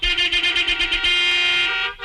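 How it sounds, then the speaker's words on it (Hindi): A car horn blares in a rapid series of short honks that run into one sustained blast, loud and close, ending abruptly. "अंदर बैठ के हॉर्न क्या बजाता है?"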